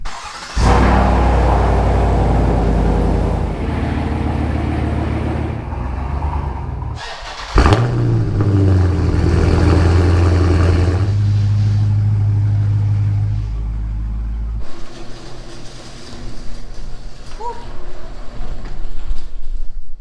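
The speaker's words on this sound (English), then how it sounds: "hop in the Dodge Charger, take her around, get the fluids running, get some heat in the engine" A Dodge Charger engine runs steadily and loudly, then revs and rumbles as the car pulls away and drives, with a door thud partway through; no speech.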